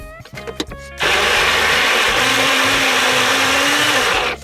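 A blender whirs loudly and steadily for several seconds after some brief clattering, its motor pitch dipping slightly as it works through thick Jack Daniel's barbecue sauce ingredients.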